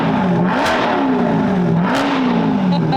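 A purple Corvette C8 engine revs loudly and steadily nearby, the pitch rising and falling through two long pulls with a harsh, roaring exhaust note filling the whole moment.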